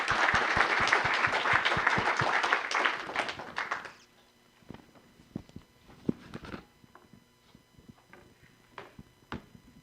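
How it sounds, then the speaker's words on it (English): Audience at a town council meeting in Surf City, North Carolina, breaks into loud, dense applause for about four seconds, then scattered claps and taps trail off in a quieter room. "So let's give them a round of applause,"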